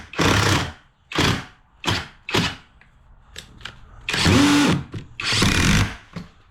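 A cordless power drill whirs in several loud, close bursts of about half a second to a second each, with short pauses and small clicks between them, then two longer runs near the end.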